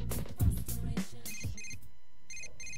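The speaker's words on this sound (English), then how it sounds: "Another phone call." A phone rings in the video game Persona 4 Golden, a series of short, bright electronic trills in quick bursts separated by brief gaps, following some louder thumps.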